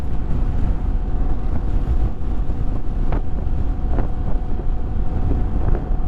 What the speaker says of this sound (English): you get these crosswinds that come across the highway right about here